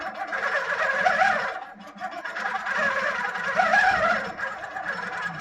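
A computerized quilting sewing machine runs steadily, stitching fabric with a continuous whirring hum and rapid needle rhythm that dips briefly once, close and loud in a quilting showroom, with no talking.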